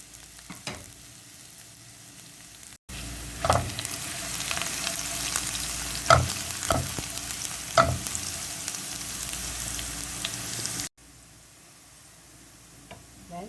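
Finely chopped garlic, about a tablespoon, stir-frying in a pan for a bean sprout and shrimp stir-fry, a loud close sizzle with scraping stirs and occasional taps, with quieter stretches before and after.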